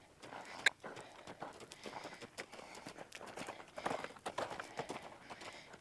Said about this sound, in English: we're going to be keeping in mind this is a gaited horse.